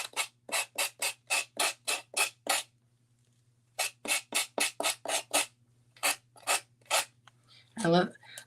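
A small gator detail sander works a surface in short, rhythmic bursts of raspy scrubbing, a quick series of close passes, a pause, then more strokes, ending with a brief squeaky scrape.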